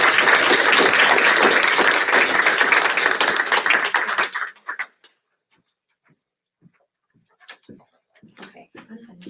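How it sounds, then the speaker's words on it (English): Applause from a crowd at a school board meeting, loud and dense clapping for about four seconds before quickly dying away into near silence with a few scattered sounds afterward. "So we just want to recognize Bailey, give her a round of applause."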